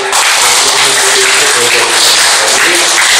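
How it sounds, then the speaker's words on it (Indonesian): Audience applause at a certificate and IT award ceremony held by an education office: a dense, steady wash of many hands clapping at once, loud and continuous through the whole stretch. "Tepuk tangan tuh SD"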